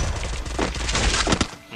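A rapid burst of Free Fire gunfire crackles close and loud, shots blurring into a dense volley before a couple of final sharp cracks.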